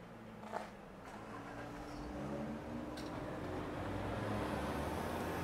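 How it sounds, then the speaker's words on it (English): Road traffic on Calle San Juan in Haria, a faint, steady rolling hum of passing vehicles that swells slightly toward the end, heard from the street at a distance. "Some traffic noise on this section."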